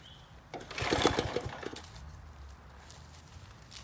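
A pull-start garden engine is cranked by hand and fails to catch, giving a short rattling burst of recoil-cord pulls and sputtering before the sound dies away to quiet background.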